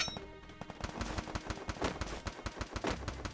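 Rapid bursts of gunfire in the video game Free Fire, a quick rhythmic string of sharp shots, fairly faint and with no one talking.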